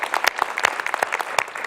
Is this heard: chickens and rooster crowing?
no